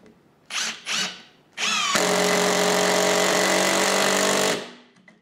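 A Würth ASS 18V M-CUBE cordless impact driver on speed setting 2, near and loud, hammering steadily for about two and a half seconds after a few short trigger blips, then winding down.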